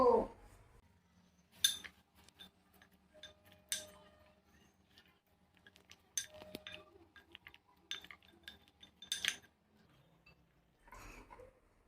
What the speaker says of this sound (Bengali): এবার আমি সবগুলোকে ভালো করে মাখিয়ে নেব